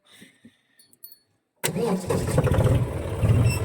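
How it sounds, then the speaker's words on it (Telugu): A John Deere farm tractor's engine cranks and catches after a few quiet clicks, then settles into a steady, loud, rumbling idle close by. "నోటలు ఉంటేనే ఈ జాండీర్ బండ్లు అనేది స్టార్ట్ అవుతాయి లేకపోతే స్టార్ట్ కాదు"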